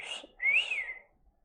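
A person whistles two short notes, a brief high tone followed by a longer rising-and-falling whistle, close and clear in a quiet room with no talk.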